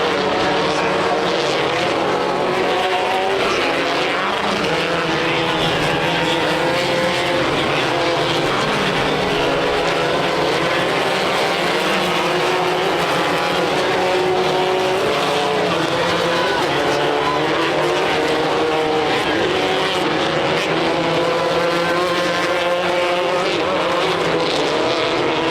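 Off-road race cars in a championship race roar continuously at a loud, steady level, engines droning and shifting pitch as they pass, under an announcer's running commentary.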